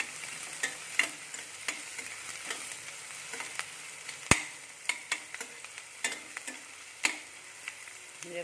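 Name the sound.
onions and green chillies frying in a pan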